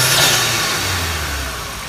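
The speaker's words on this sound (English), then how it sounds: "I'm gonna give it some exhaust revs and everything." A 2014 Kia Optima SX Turbo with a newly installed intake revs up and then settles, its engine note loud and close, slowly falling over two seconds.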